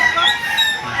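A chicken for sale at a rainy livestock market in Lipa City, Batangas, clucks in quick, high, close calls with a short crowing edge, loud and brief and alone.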